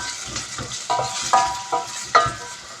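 Chopped onions, four medium ones for a chicken curry gravy, fry and sizzle in hot oil while a spoon stirs them in several distinct scraping strokes, close up with no talking.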